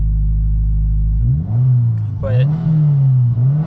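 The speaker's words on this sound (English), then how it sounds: "you're able to rev it and it goes back down and revs" A 2022 Subaru WRX engine, turbocharged and still a little cold, idles steadily, then revs and settles back down with a rising and falling drone; a brief word of speech is heard near the middle.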